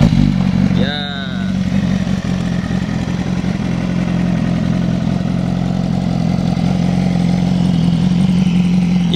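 A BMW S1000RR motorcycle fitted with an Akrapovic exhaust runs close by, giving a brief rising rev near the start before settling into a steady, loud, throaty idle that continues throughout.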